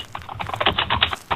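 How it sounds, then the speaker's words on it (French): Typing on a computer keyboard, a quick uneven run of clicky keystrokes heard close and fairly loud, with a brief pause before a final burst. "Il y a quelqu'un qui est en train d'écrire sur son clavier"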